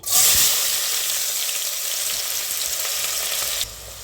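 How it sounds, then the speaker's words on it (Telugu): Thinly sliced onions dropped into hot oil, a loud burst of sizzling that settles into a steady, bright frying hiss before easing off at the end, with no talking. "ఆయిల్ అనేది వేడెక్కిన తర్వాత సన్నగా తరిగి పెట్టుకున్న ఉల్లిపాయలు వేసుకుందామండి"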